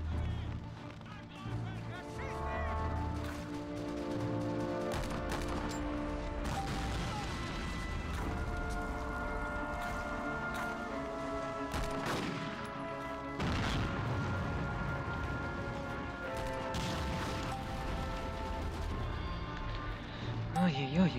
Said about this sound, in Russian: Особенно после вот таких вот взрывов.